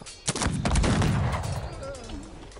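A burst of heavy gunfire in the video game Cossacks 3, with a booming low rumble that swells and slowly fades, loud and close.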